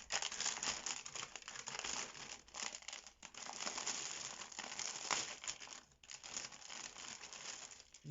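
Crinkly plastic packaging holding cross-stitch embroidery threads is unwrapped close up, with continuous crackling and rustling that rises and dips in short bursts throughout, and no talk.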